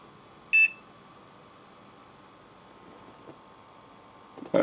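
A computer powering on gives a single short electronic beep near the start against a steady low hum, followed by quiet fan noise and a faint click near the end.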